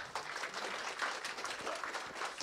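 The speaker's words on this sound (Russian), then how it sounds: "Ну, во-первых, аплодисменты, друзья, давайте." An audience at a talk on sales department KPIs applauds, sustained even clapping from many hands at moderate loudness.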